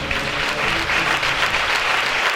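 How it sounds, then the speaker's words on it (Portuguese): Church congregation applauding during a Portuguese-language service, a dense, steady burst of clapping from many people that fills the room. "Aplauda Jesus."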